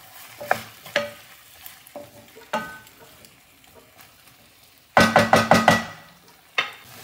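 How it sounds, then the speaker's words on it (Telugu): Raw potato pieces and spinach frying in an uncovered pan, with a soft continuous sizzle broken by scraping stirs and a burst of rapid, loud clanks and scrapes near the end, no talking. "సో నేను లిడ్ తీసేసుకొని పొటాటో ఫ్రై చేసుకుంటూ ఉన్నాను."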